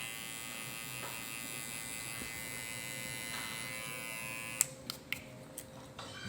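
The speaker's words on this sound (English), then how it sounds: "this is my clipper, no guard, doing some lever play, trying to get this part of the blend to come together" A Babyliss SnapFX hair clipper without a guard hums steadily and close while the lever is worked to blend a burst fade, with a few light clicks and snips near the end.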